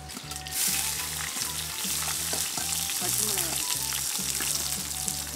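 Onions fry in a pan with fenugreek and mustard seeds for a South Indian fish curry, making a constant bright sizzle over a repeating low rhythmic hum, with no voices.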